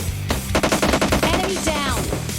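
Rapid automatic gunfire in PUBG Mobile Lite, a dense burst of repeated shots fired close and loud, followed by a brief pause and more scattered shots with game sounds.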